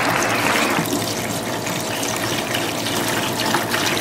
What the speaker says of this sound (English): I'm gonna pour my little special solution